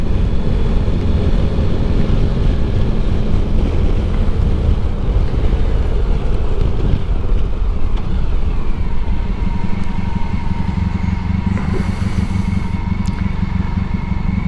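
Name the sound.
side wind noise through helmet while riding at 50 mph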